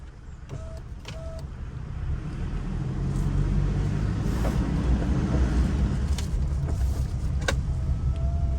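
A new-model car drives through a curve, its engine and road noise forming a steady interior rumble that swells slightly, with faint clicks and rattles from the cabin.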